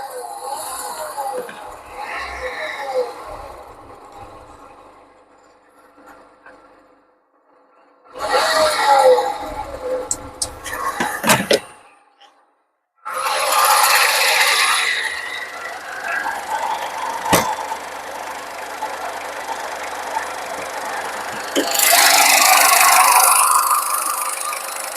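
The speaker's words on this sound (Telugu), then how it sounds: "బానెట్ కూడా తీసి ఇంజిన్ స్టార్ట్ చేసి చూపిస్తాను" Tata Vista car engine starting and revving in bursts, a mid-pitched drone that swells, cuts out briefly and returns louder, with occasional voices nearby.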